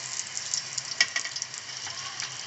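Puris frying in hot oil, a steady faint crackling sizzle with scattered pops and a brief louder splash as dough slips into the pan, no talk.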